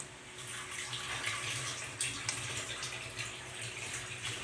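Water poured from a tap into a pan on the stove, with celery and pork being cooked into a stew, runs as a steady broadband splashing rush throughout, close and continuous.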